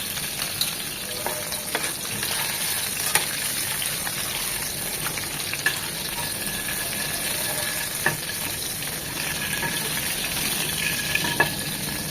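Ayer fish fries lightly in oil, a continuous crackling sizzle with occasional small pops at a steady, moderate level and no voices.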